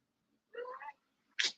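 A house cat lets out two short meows, the first a drawn-out wavering call and the second a sharper, brighter cry a moment later, close and clear with silence around them.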